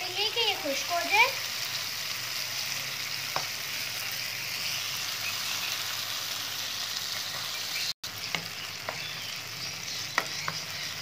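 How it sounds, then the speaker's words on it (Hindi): Okra (bhindi) fries in hot ghee with a soft, continuous sizzle and occasional stirring clicks. The sound is fairly quiet, with a voice briefly heard at the start. "अब हम इसमें भिंडी डालेंगे, और भिंडी को अच्छी तरह फ्राई करेंगे कि ये खुश्क हो जाए।"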